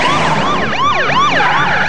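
An ambulance siren wails in a movie trailer, loud and close, its pitch sweeping up and down in rapid repeating cycles with no other sounds.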